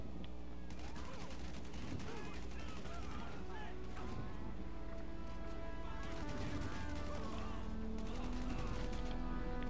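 Video-game gunfire in GTA 5 comes as bursts of rapid shots with mechanical clatter and crashes, dense and continuous, with a voice talking over it at times.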